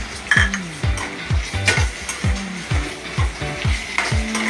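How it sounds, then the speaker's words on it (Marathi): Chopped tomatoes go into browned onions frying in a pan, a bright continuous sizzle broken by repeated scraping strokes and clinks of a spoon against the pan, close and prominent. "आता आपण ह्याच्यामध्ये टमॅटो टाकू"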